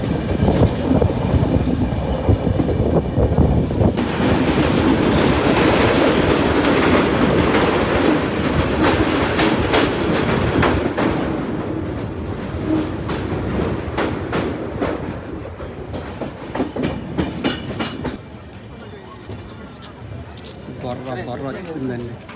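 The Araku Valley train rolls along its rails, a loud close rumble with rhythmic clickety-clack from the wheels on the rail joints, which eases and grows quieter in the later part.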